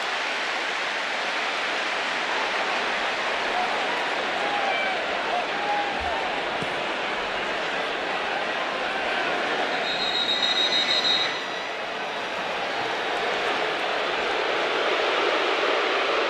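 A large football stadium crowd at a Florida Gators versus Tennessee Volunteers college game roars in a dense, continuous wash of noise, far-off and unbroken, with a faint whistle-like tone midway.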